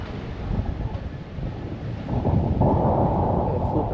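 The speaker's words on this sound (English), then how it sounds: "This wind is pretty consistent coming off the lake, and especially at this higher elevation." Strong, constant wind off the lake buffeting a microphone on a hilltop at Loma de Tiscapa, a loud low rumble that swells and grows heavier partway through.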